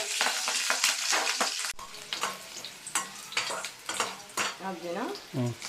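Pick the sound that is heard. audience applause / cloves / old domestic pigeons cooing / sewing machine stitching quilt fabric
cloves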